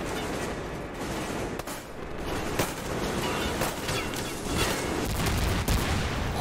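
Sustained automatic gunfire from a machine gun in the first-person shooter Metro Exodus, a dense continuous rattle of rapid shots with dull booms mixed in, loud and close throughout with no pauses.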